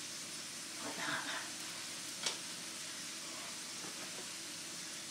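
Square sausage sizzles in oil in a frying pan, a steady soft hiss with a couple of brief louder crackles, faint and close.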